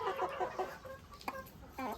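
Young roosters and hens cluck in a farmyard, with short broken clucks and calls coming from several birds at moderate distance.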